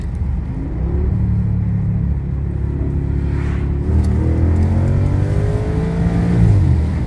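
Audi S8 engine revving hard and loud in steady, sustained pulls, its deep rumble rising in pitch as the revs climb, close and alone without talk.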